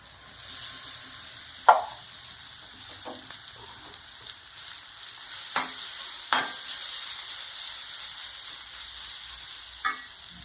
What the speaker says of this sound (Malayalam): നമ്മുടെ അരപ്പ് ചേർത്ത് കൊടുക്കാം